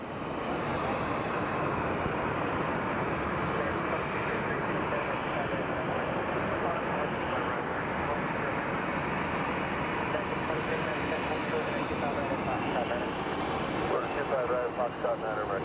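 A jet airliner on a flight to Laredo, a loud continuous engine rumble and whine close by at Sky Harbor, sustained throughout with a voice talking faintly underneath.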